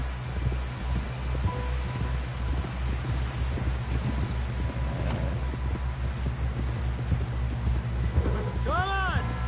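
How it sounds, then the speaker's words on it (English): Horse hooves clip-clopping at a fast gait in the Red Dead Redemption 2 video game, a rhythmic thudding over wind and rustling, with speech-like voices mixed in and a brief tonal sweep near the end. "Someone help John down off this horse."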